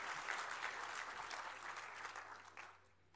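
Audience applause at a conference closing plenary, a steady wash of clapping from a large crowd that carries on throughout and fades slightly toward the end, with no talking.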